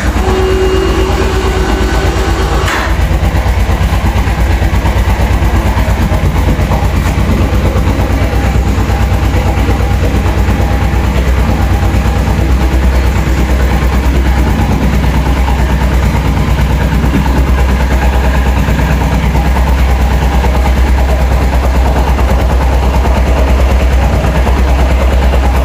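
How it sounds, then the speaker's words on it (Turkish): A Suzuki Inazuma GW250 motorcycle engine runs with its left spark plug removed, a loud, close, steady mechanical chatter with an uneven pulsing beat that never lets up. "Motor halen aynı çalışıyor."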